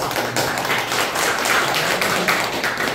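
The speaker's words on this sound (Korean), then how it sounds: "박수 한번 해드리세요" An audience at a patriotic public lecture by a pastor bursts into applause: loud, close, sustained clapping from many hands with distinct sharp claps standing out, and no speech over it.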